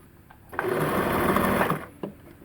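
A sewing machine stitches a blouse sleeve in a single burst of rapid whirring lasting about a second, close up, followed by a short mechanical click.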